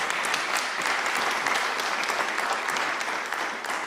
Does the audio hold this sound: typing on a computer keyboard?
no